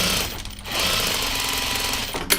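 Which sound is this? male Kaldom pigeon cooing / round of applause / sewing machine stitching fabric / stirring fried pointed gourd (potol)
sewing machine stitching fabric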